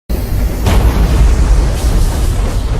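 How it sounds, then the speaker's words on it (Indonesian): A big explosion from an animated cannon shot, a sudden loud boom that rolls into a sustained heavy rumble with crackling debris, filling the whole stretch without any voices. "ledakan besar"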